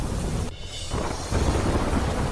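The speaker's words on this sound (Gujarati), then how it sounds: "ઘોગાવદર નજીક સીમ વિસ્તારમાં ભારે વરસાદથી ખેતરો થયા પાણી પાણી." Heavy rain pours over farm fields near Ghogavadar with a low thunder rumble, making a dense, steady wash of sound close to the microphone.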